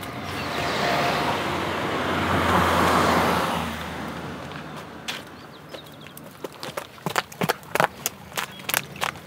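Vehicles pass along a road, a broad rushing swell that peaks and fades over a few seconds, followed by a series of short, sharp knocks and clatters nearby.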